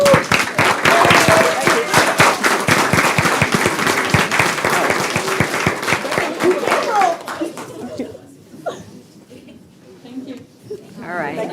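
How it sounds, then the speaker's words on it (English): A city council meeting audience rises to applaud young people, a loud crowd of clapping with children's voices and chatter mixed in, thinning out after about seven seconds into scattered sounds and talk. "let's give a round of applause for all our young people"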